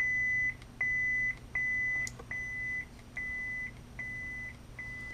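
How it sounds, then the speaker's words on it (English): A Ween OWK Proffie Neopixel lightsaber sounds a series of about eight short, clear electronic beeps at an even pace over a faint hum, close and alone. "That beep tells you you're in the volume menu."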